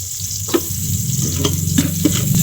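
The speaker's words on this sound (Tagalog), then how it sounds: "umpisa na nating maggisa. Unahin ang bawang, sibuyas, siyempre yung ating luya" Garlic, onion and ginger sauté in hot oil with a loud, close, steady sizzle and a low hum beneath, with a few brief spoon scrapes.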